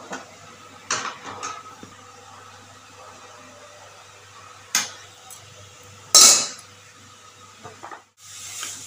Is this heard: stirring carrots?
yes